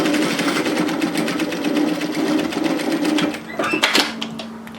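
A sewing machine top stitches a knit teddy jacket, producing a loud, steady whirring run of rapid needle strokes that slows and stutters into a few clicks near the end.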